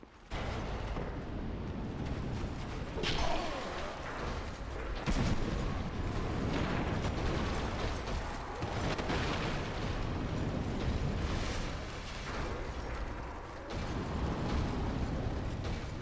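Fire bombs explode in Dark Souls II amid dense, rumbling clatter, with repeated heavy bursts and booms layered over a constant loud roar.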